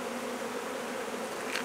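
A dense, steady hum of many honey bees buzzing together at their hive, continuous and close, with no voices.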